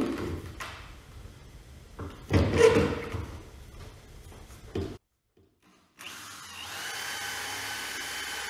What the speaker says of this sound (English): I'm just going to drill the depth of these, not all the way through because they're quite thick